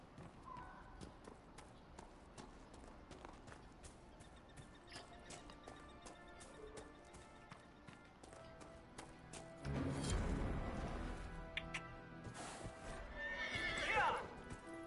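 A video game horse whinnies loudly near the end after steady clip-clop hoofbeats, with a voice talking over the scene.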